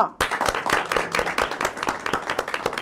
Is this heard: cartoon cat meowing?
no